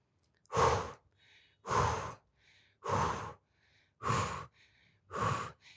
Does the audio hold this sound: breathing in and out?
yes